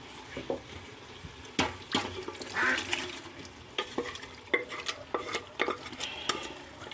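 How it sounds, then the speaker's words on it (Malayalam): Cooked beef being stirred into biryani masala in a pan: a spoon scrapes and clacks against the metal in irregular strokes over a soft, steady sizzle, close and fairly quiet. "ബീഫ് നമുക്കിതിലേക്ക് ഇട്ട് കൊടുക്കാം ബീഫ് നന്നായി വെന്തിട്ടുണ്ട് ഇതിലേക്ക് ഇടാം"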